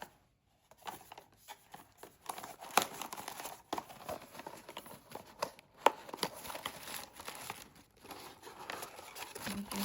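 Paper and plastic gift packaging from an advent calendar being crinkled, torn and unwrapped up close, with irregular rustling bursts and sharper tearing sounds and no talking.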